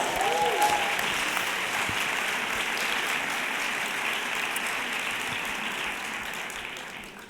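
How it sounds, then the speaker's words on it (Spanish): Steady applause from a large audience at a keynote event, a dense wash of clapping that holds strongly and fades slightly toward the end, with no voices over it. "Un aplauso para todos."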